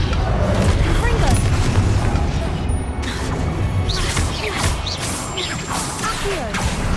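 Confringo spell blasts from Hogwarts Legacy boom and crash in a dense, loud barrage of explosive impacts and whooshes that carries on without a break.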